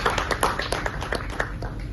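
Audience clapping at a theatre festival, a brisk scattered patter of hands from a modest crowd, fairly close and steady through the short burst.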